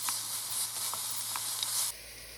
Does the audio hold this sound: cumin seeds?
yes